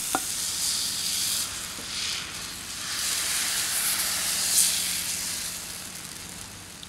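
Vietnamese crêpe batter frying in a hot pan gives a steady close sizzle and hiss, swelling and easing in waves for several seconds, with a faint click or two and no voices.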